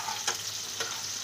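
Potatoes and eggplant frying in a pan for a tengra fish curry, a steady close sizzle with two brief stirring scrapes.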